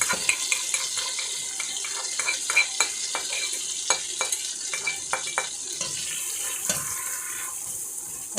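Chopped onion, a single one, stirred in a pot for a pollock fish soup, with repeated light scraping clicks and a soft steady sizzle running underneath, close and moderately quiet.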